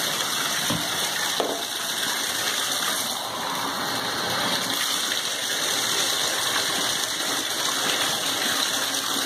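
Water poured from a cup over ferrets during a bath, a steady continuous splashing gush that fills the clip at close range with no speech.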